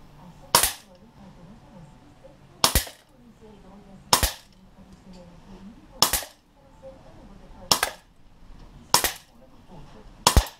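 Artemis CP400 air pistol firing JSB Exact RS pellets, seven sharp dry cracks spaced about one to two seconds apart over a quiet room background with faint low murmuring between shots.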